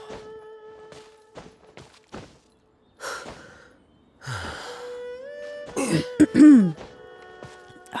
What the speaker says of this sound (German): ich muss mich immer noch ein bisschen räuspern